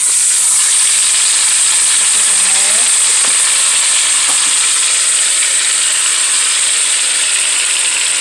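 A roast sizzles and spits loudly in a hot pan with browned garlic, a dense continuous frying hiss with a few faint clinks, close up and without talk.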